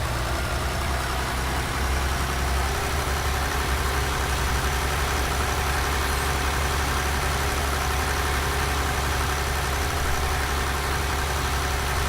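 A small but high-horsepower farm tractor engine runs steadily at a low, even throb, loud and close throughout with no talking.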